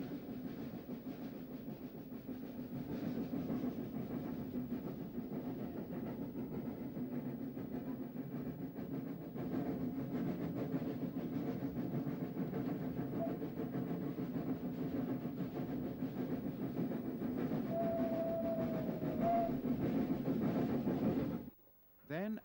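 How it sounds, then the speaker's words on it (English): Steam locomotives haul heavy coaches up an incline on the Kent and East Sussex Railway, giving a steady, sustained chuffing rumble with a brief whistle-like tone near the end, heard under a narrating voice. "The locos had to work very hard, pulling their heavy coaches up the incline,"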